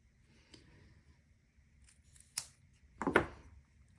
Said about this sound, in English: Take a small piece of felt, fold it in half, and simply cut a triangle shape